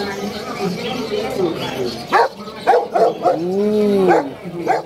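Dogs at Grotto Pet Market in Bulacan, including a guard dog, let out a handful of loud, close barks and a whining yelp over steady conversation nearby.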